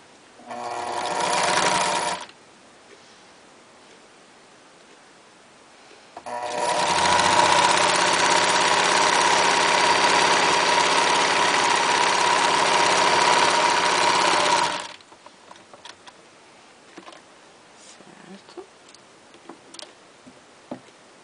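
A sewing machine stitches broderie anglaise trim onto a rag doll piece, with a short burst, a pause, then a long steady whirring run of about eight seconds before stopping, followed by light handling clicks.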